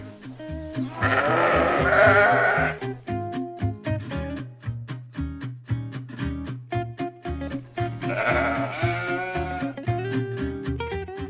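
Merino sheep bleat twice, loud and wavering, over a steady plucked musical backing that keeps going between the calls.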